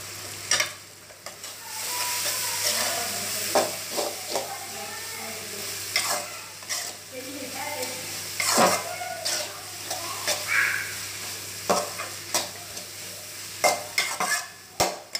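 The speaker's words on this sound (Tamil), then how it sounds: "நல்லா வதக்கி விடுங்க." Grated carrot, cabbage and beans sautéed in a pan for vegetable egg macaroni, a steady sizzle broken by repeated scraping and stirring strokes of a spoon against the pan, close up with no talk.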